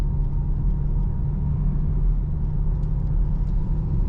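Chevrolet Camaro SS engine in competition mode, a steady loud rumble heard from inside the car as it pulls through the gears, with no clear shift breaks and no talking.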